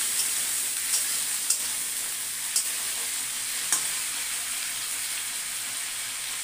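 Leftover food being reheated in a home kitchen pan for a rice and chicken meal, giving a steady close sizzle with a few light clicks of stirring, no talking.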